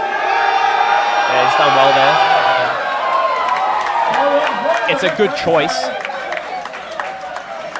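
Powerlifting competition crowd at the SBD Australia Cup cheering and whooping after a record squat, a loud sustained roar with shouts, under a commentator's voice.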